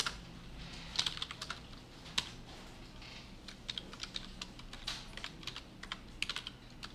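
Computer keyboard keys are typed in quick, irregular clicks, some sharper than others, over a steady low background hum with no talking.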